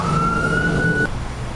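A nearby emergency vehicle siren sounds outside as a steady wailing tone over a low traffic rumble, cutting off abruptly about a second in, leaving only the background hum.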